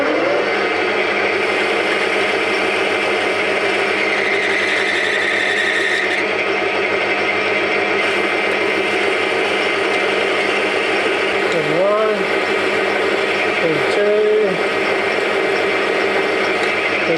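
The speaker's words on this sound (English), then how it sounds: "So I should now drill that in until I get to about 33." Metal lathe drilling into a workpiece with the drill held in the tailstock, a steady mechanical whir and hum running throughout, with a few brief scraping squeals near the end.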